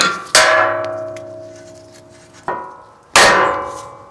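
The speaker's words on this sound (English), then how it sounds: "we're just gonna kind of pretty much hit the spindle here towards the passenger side" Three ringing metallic hammer blows strike the spindle of a 3rd Gen Toyota Tundra to free the upper control arm, each sharp clang followed by a long resonant decay, loud and close.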